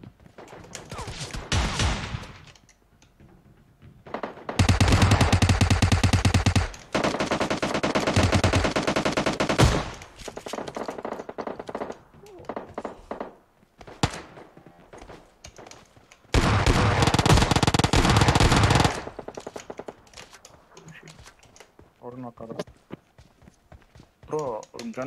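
Automatic gunfire from a PUBG Mobile gunfight, with loud bursts of machine-gun fire and rapid shots alternating with quieter stretches of footsteps and game noise, while a voice talks during the match.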